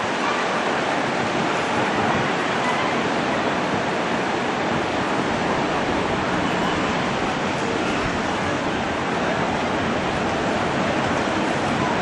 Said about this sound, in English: Sometimes the waves are really strong, really big one after the other.